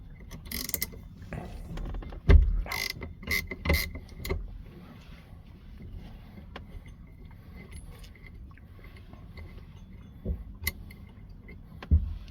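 A nut is worked off the steering wheel of an Opel GT, heard as scattered metallic clicks and clanks of tool and parts at close range, with quiet pauses between bursts.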